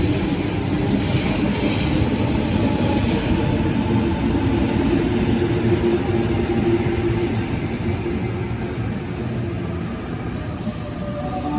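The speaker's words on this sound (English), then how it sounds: "The next train to arrive on platform 7 goes to City Circle via Town Hall" A Sydney Trains service arriving at Strathfield station makes a loud, continuous rumble and rolling wheel noise. Faint high wheel squeal is heard early, and the sound eases slightly toward the end, with no voices.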